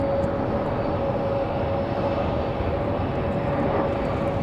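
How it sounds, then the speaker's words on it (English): Delta airliner touching down on runway 5 right at Raleigh-Durham in windy conditions, a steady broadband roar of engines and rolling wheels with a sustained tonal whine, continuous and fairly loud throughout with no talk. "Nice, smooth touchdown for Delta 1407"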